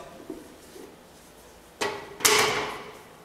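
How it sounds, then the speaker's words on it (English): Malt sample rattling inside a Porteous sieve box, with two sharp bursts of granular shaking close up after a quiet start. "we put the sample into the Porteous box. And this is basically, you would then shake it about"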